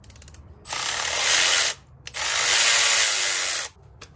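Ratchet working loose bolts and a sensor on a Dodge Hellcat supercharger, two long bursts of rapid, close, loud clicking separated by a short pause, with a few brief clicks at either end.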